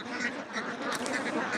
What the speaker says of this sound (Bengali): দেখতে পাচ্ছেন আমার পিছনে অসংখ্য হাঁস, তাদেরকে খাবার দেওয়া হচ্ছে এবং তারা খাবার খাচ্ছে। এগুলা খাকি ক্যাম্বেল জাতের হাঁস